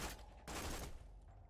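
A Hornet gun in a video game lets off two close, loud bursts of rapid fire in quick succession, the second trailing off into a short reverberant tail.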